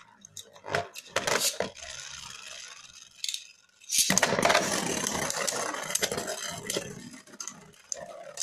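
Beyblade Burst Turbo spinning tops launched into a stadium, sharp clacks of launch and collision followed by a sustained metallic whirring rattle as they spin and knock together up close.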